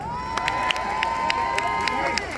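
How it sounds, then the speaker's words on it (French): At a rally supporting Israel and French Jews, a crowd cheers and claps for a speaker, with a sustained whistle or horn tone above scattered sharp claps and shouts. "je vous demande d'applaudir Céline Attal"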